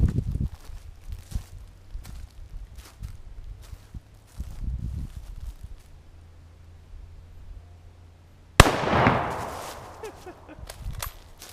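A single sharp gunshot from an 8mm Mauser rifle firing a soft point round into wood, loud and close, cutting in abruptly after quiet handling noises and rustling, then trailing off.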